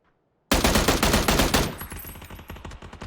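Rapid gunfire bursts from a 4x-scoped rifle in a PUBG pro scrim match, loud and dense, starting abruptly after a quiet moment and continuing as repeated close shots that gradually thin out.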